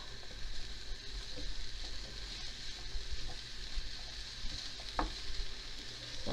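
A stir-fry sizzles steadily in a hot pan, with a dense, even crackle and occasional soft scrapes from stirring, close and continuous, with no voices.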